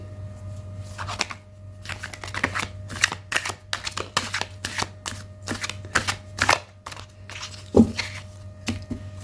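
Tarot cards shuffle by hand in a series of quick riffling and flicking bursts, close and fairly soft over a low steady hum, with no talking.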